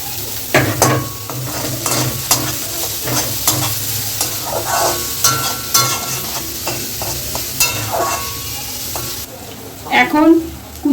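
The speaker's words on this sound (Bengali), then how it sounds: "এই কুচিয়ে রাখা পেঁয়াজগুলো দিয়ে দিলাম।" Chopped onions hit hot oil and sizzle loudly and steadily while being stirred, with scraping stir strokes close up, in the filling for crispy onion kachori.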